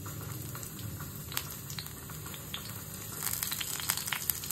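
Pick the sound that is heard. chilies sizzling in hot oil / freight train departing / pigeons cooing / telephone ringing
chilies sizzling in hot oil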